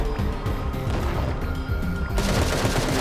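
Gunfire in the mobile battle-royale game Sausage Man, rapid bursts of shots cracking close and loud in quick succession, dense and continuous without talk.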